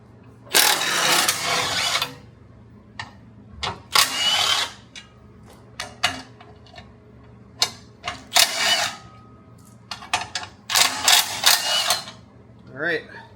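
Power tool bursts and ratcheting drive down bolts securing a Cusco chassis brace on a Honda Civic Type R FL5, several loud whirring runs and short clicks mixed with speech nearby.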